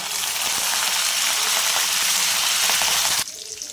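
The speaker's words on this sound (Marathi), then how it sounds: "लसूण थोडा ब्राऊन झाला की त्यामध्ये कढीपत्ता, ह्यात मी कढीपत्ता टाकते" Curry leaves crackle and sizzle loudly in hot oil alongside browned garlic for crispy potato slices, a dense steady frying hiss for about three seconds before dropping off abruptly near the end.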